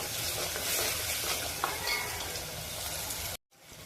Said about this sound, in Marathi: आता त्यामध्ये कांदा, लसूण, कोथिंबीर आणि अद्रक यांची पेस्ट टाकून हे चांगलं